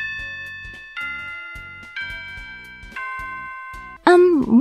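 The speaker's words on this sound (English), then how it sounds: "That's the warning bell." A school warning bell in the video game Gakuen Club rings as four clear descending chime tones, one per second, before a voice speaks at the end.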